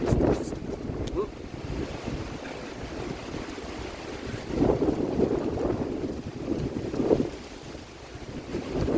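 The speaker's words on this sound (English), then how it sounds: "I have to wait for this wind to stop." Wind buffets a camera microphone outdoors in a low, rumbling roar, steady with gusty swells that rise around the middle and again near the end, with no tool running.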